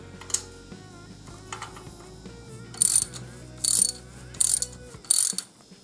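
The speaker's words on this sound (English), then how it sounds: "Okay, so now I'll be dismounting the rocker box covers." Ratchet clicks out the cover bolts on a Harley-Davidson rocker box in a few close, loud bursts of rapid pawl ticking, separated by quieter mechanical handling noises.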